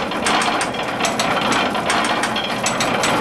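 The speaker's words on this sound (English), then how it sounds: "And way over the back and down is the ratchet drive mechanism." The ratchet drive mechanism of an oven in a sardine factory clatters continuously, a dense metallic clicking and grinding with rhythmic pawl ticks over a loud industrial rumble, no voices.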